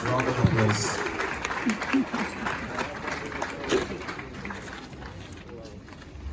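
A round of applause breaks out at a ceremony where educational items are donated to second-cycle schools: dense clapping from a seated crowd, loudest at the start and slowly thinning, with voices murmuring beneath it.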